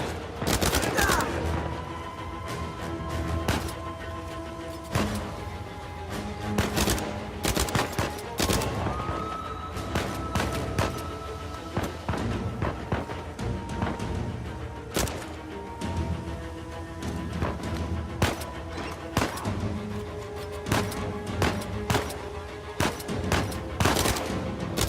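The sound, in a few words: machine gun fire in the video game Uncharted 4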